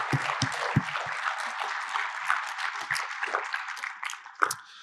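An audience at the annual National No-Tillage Conference applauds no-till innovator award honorees, a steady few seconds of indoor clapping at moderate level that thins out toward the end.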